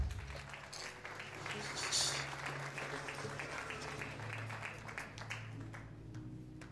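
Church congregation applauding during a sermon, a steady wash of clapping across the whole stretch, fairly faint and distant, swelling slightly early then holding even.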